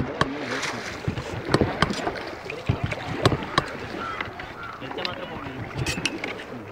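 A rowing boat on Koduku lake moves through the water with irregular splashing oar strokes and knocks against the hull, steady outdoor noise under them and voices talking nearby.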